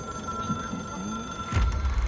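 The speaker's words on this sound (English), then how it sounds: "It is a phone." A telephone rings inside the video game Control, a thin electronic trill holding steady under a low hum before a heavier thud and rumble break in near the end.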